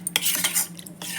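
A spoon briskly stirs custard powder in a bowl, producing quick scraping and clinking strokes close up, with no voices.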